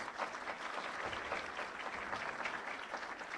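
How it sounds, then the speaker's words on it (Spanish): Audience at a Mexican panel event gives a former electoral councillor a steady round of applause, moderately distant and continuous for several seconds. "Le damos un fuerte aplauso al maestro Arturo Sánchez."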